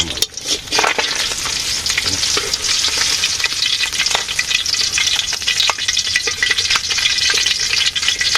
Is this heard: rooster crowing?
no